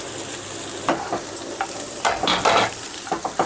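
Flattened rice (poha) tipped into hot oil in a pan and stirred, with scraping strokes and a steady sizzle, close and fairly loud.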